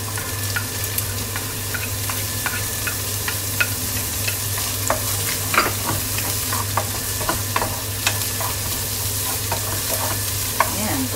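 Bacon fries in a pan for Japanese chahan fried rice, a dense continuous sizzle with scattered crackles and spatula scrapes, close and fairly loud throughout under a steady low hum.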